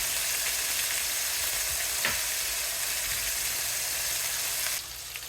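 Pork chops searing in a very hot pan give off a loud, constant, close sizzle and hiss with a faint clink partway through, then the sound drops off slightly just before the end.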